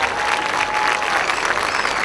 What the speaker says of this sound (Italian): Con l'applauso di tutta la piazza